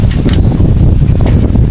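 Steady, loud wind buffeting the microphone throughout, a continuous low rumble with gusty rises and no clear voices.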